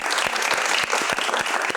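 A studio audience claps steadily and fairly close for a couple of seconds, a dense continuous applause without voices standing out.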